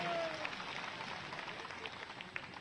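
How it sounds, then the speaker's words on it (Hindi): A crowd at a political rally in Umaria claps to welcome a guest, scattered, fairly distant applause over murmuring background noise. "इनका तो जोरदार स्वागत करो ताली बजा।"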